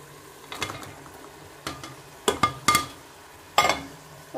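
Chicken with tomatoes and green chillies is stirred and sautéed in a pot for chicken pulao. A spoon scrapes and clanks against the pot in a handful of sharp, separate strokes over a low, steady sizzle.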